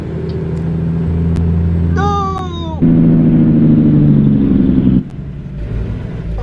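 A truck engine in American Truck Simulator rumbles steadily and loudly, rising in pitch as it revs and accelerates, with a brief high tonal squeal partway through before the drone settles lower.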